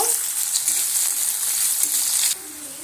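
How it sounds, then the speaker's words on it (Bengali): Thinly sliced onions fry in hot oil, giving a steady, close hiss of sizzling that holds evenly for a few seconds and then drops slightly quieter near the end, with no talking. "তেলের মধ্যে পেঁয়াজটা আমি দিয়ে পেঁয়াজটা আমি একটু লাল লাল করে ভেজে নেব"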